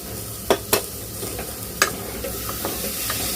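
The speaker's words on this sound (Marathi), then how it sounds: "भाज्या पण मिक्स करून घेते मी" Peas and potato for a quick pulao get stirred in a hot pan, soft sizzling throughout with a few sharp spatula scrapes and clinks early on, then quieter stirring.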